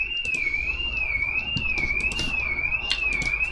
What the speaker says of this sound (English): The house alarm is on from the neighbor.